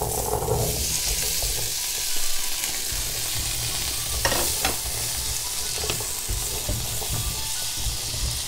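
Chickpeas dropped into a hot frying pan and stirred, a continuous loud sizzle with scraping and clattering from the utensil, a sharper burst near the middle, and no talking.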